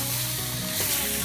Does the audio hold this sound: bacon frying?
yes